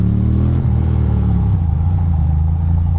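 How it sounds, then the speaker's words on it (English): A Honda CR-V accelerates through a traffic light, heard as a loud, close engine hum that rises in pitch and then settles into a steady drone, with no voices. "If only the CRV decides to hit the gas and make this light"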